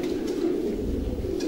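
A pigeon cock cooing steadily in a pigeon loft, a low continuous coo close by, heard alone without talk.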